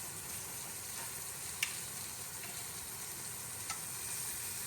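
A steak sears in a nice hot carbon steel pan, giving a steady, quiet sizzle. A couple of faint clicks sound over the frying.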